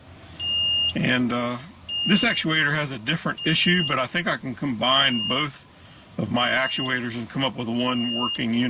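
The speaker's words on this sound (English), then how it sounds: "I apologize for the beeping, it's the door." A fourth-generation Nissan Maxima's door-open warning beeps in repeated high bursts while someone talks steadily over it.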